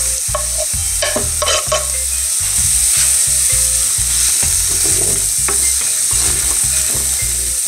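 Chopped carrots and garlic sizzle loudly in a hot pan while a utensil stirs them in steady, repeated scraping strokes, close and with no talk.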